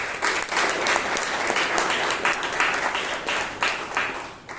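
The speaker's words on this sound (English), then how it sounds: "please give the speaker and the evaluator a huge round of applause." A Toastmasters meeting audience gives a sustained, even round of applause for a speaker and evaluator, dense clapping throughout with no talk over it.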